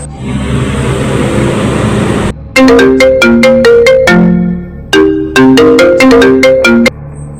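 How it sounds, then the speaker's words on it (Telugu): A phone ringtone plays loud and close, a bright repeating melodic pattern in two bursts after a short stretch of background noise. "అర్జున్ ఫోన్ వస్తుంది"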